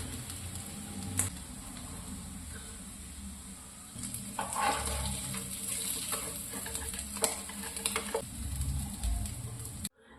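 Fish sizzling in hot oil in a pan while being fried for meen pollichathu, a steady frying hiss with occasional stirring clatter and scrapes, close and moderately loud, continuous throughout.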